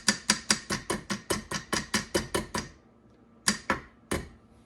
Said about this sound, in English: I'm going to use the nylon end of the hammer here, and we're just going to lightly tap this down to get that to rotate